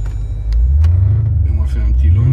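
A tuned stage 2 Jeep Grand Cherokee SRT launches hard from close range, its engine roaring and rising in pitch as it accelerates, with excited passengers' voices faintly mixed in.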